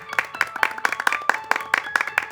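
A studio audience at a Portuguese talk show claps in welcome for an arriving guest, a steady run of close, crisp hand claps from a small group, rhythmic and fairly even, with no talking over it.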